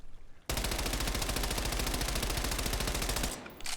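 An automatic weapon in the Call of Duty video game fires a full 40-round drum in one unbroken, loud, rapid burst that lasts about three seconds and then cuts off abruptly.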